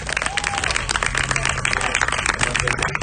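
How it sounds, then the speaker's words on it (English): A crowd at a book launch applauds steadily, dense clapping filling the space, with a few voices and cheers mixed in. "can y'all give a round of applause to Alana and YNot, please?"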